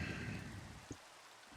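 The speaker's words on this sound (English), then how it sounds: "But of course, it is raining once again." Steady rain hisses throughout in Minecraft, with a single brief thump partway through, and no one speaks.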